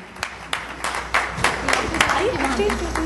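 Scattered hand claps ring out from a small audience at a Hindi poetry gathering, uneven and moderately loud, while a voice keeps talking over them.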